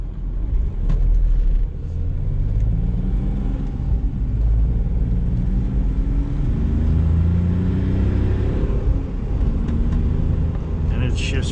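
A Smart Fortwo CDI diesel with an automated manual transmission accelerates, its engine note rising and dropping in repeated steps as gears change, under steady road rumble and cabin noise.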